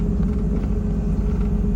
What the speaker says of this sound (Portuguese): ele vai acionar o retarder, mas não vai deixar passar de 40